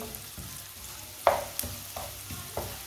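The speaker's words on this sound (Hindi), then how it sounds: "एक बारीक कटा हुआ प्याज, इसे भी 2 मिनट के लिए भून लेंगे।" Finely chopped onion fries in hot oil in a pan, with a soft, steady sizzle broken by a few distinct spoon strokes and scrapes at close range and no talk.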